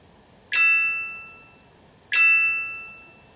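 Two bright ding chimes from the Wunderlist app marking tasks complete, each sharp strike ringing out and fading over about a second, spaced roughly a second and a half apart against a quiet background.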